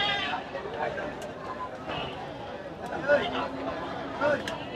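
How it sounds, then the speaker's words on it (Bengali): Goats bleating a couple of times amid a busy goat market hubbub, with people chattering and talking in the background throughout. "দেখতে পাচ্ছেন চমৎকার একটি খাসি, সুন্দর সুঠাম দেহের একটা খাসি দেখতে পাচ্ছেন"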